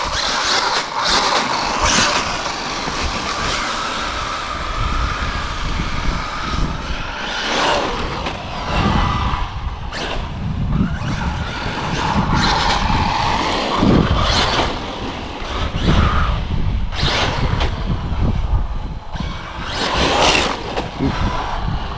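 A Traxxas Maxx Slash RC truck on 3.8-inch Badlands tires rips around outdoors, its electric motor whining and surging in repeated bursts over gritty tire noise, loud and close with wind buffeting.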